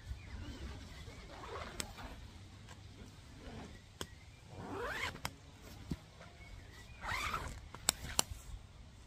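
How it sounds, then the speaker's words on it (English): A zipper on a forest green Naturehike Vik 2 tent is drawn in a few rasping pulls, close and fairly quiet, separated by pauses with small ticks and clicks from handling the fabric. "And the zip."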